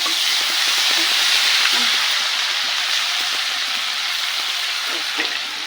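Ginger garlic paste fries in a pan for chicken curry, giving a steady, loud, close sizzle with occasional stirring scrapes throughout.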